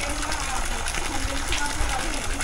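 Spring water from a natural source pours steadily into a resort swimming pool, making a continuous close rushing wash with faint voices in the background.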